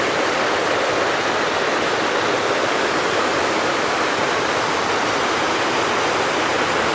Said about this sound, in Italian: il rumore dell'acqua inconfondibile e si tratta del fiume